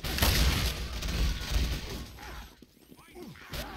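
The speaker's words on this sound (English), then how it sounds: "Like an explosion." A rocket launcher explosion in a video game: a loud crashing blast with rumbling debris that fades, then a smaller burst near the end.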